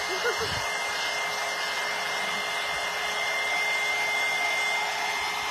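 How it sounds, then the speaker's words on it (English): A hair dryer blows steadily at close range, a constant loud whooshing hum throughout, with a brief faint voice at the start. "let me hit this with the dryer real quick."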